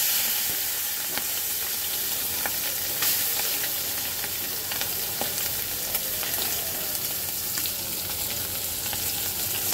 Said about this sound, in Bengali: তো এখন মাছগুলো সুন্দর করে হালকা ভেজে নেব।